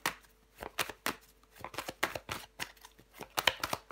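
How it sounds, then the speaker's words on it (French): Tarot cards are handled and turned over close by, giving a run of quick, crisp slaps and soft flicks at an uneven rhythm, fairly quiet and without talk. "Je vais recouvrir des cartes."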